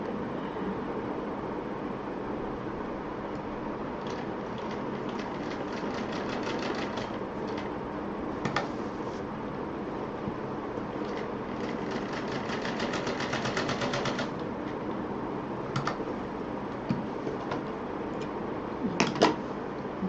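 A sewing machine stitches a cord onto a handmade pouch, its needle running in steady rapid bursts with short pauses between passes, heard close and fairly loud with no talk.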